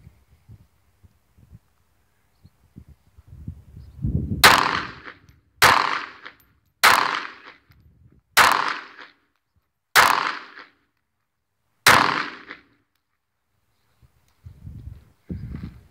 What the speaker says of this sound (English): she's gonna try a few rounds with the Seecamp.